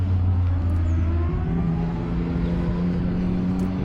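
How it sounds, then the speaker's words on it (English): A few sports motorcycles rev in the background, a continuous engine drone that rises and shifts pitch and sits at a moderate distance, with no speech over it. "You can hear a few sports bikes in the background there"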